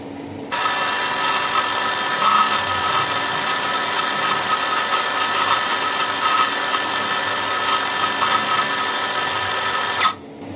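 An Ingco CSLI 1651 cordless circular saw runs free at high speed, a loud, steady whine that holds for about ten seconds and cuts off sharply.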